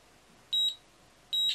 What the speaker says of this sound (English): I'll put my meter to